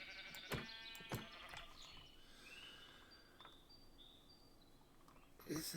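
A sheep in the video game Minecraft, modpack Enigmatica 6, gives a couple of short bleats near the start and again at the end, fairly faint over quiet ambience with faint bird chirps.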